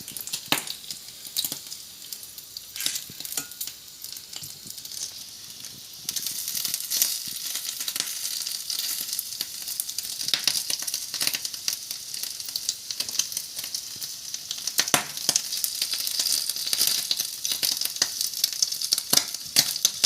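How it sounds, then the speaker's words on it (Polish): Bacon sizzles and crackles steadily in a hot pan, with dense popping spatter that grows louder partway through. "Boczek już dochodzi, teraz przewracam na drugą stronę."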